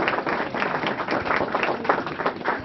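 Audience clapping for a deputy at the opening of a campaign office: dense, steady hand claps close by, lasting throughout without pause.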